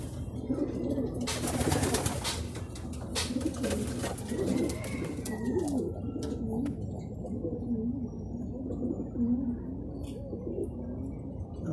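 Racing pigeons coo in soft, repeated low burbling calls during truck training in Guiguinto, Bulacan, with a burst of rustling and flapping early on, then steady cooing from several birds nearby.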